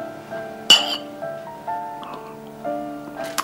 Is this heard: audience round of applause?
no